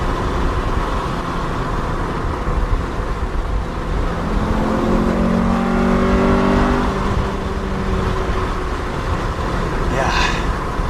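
A Honda Civic Si EM1 with a VTEC engine revs hard while driving. The engine note climbs steadily through the revs over constant road and engine noise, with a brief voice near the end.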